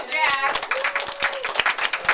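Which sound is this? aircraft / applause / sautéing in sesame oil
applause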